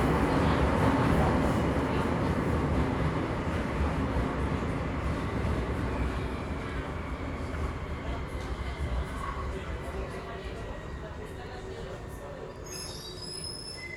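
A Bucharest M2 metro subway train runs with a loud, steady rumble and rising wheel squeal that eases off over time, and a brief chime sounds near the end.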